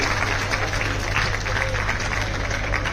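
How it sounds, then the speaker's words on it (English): Audience applause fills a hall at the Chandigarh Design Festival, a dense, steady wash of many hands clapping at even loudness throughout, with no pauses or swells. "if we can just welcome them with a round of applause"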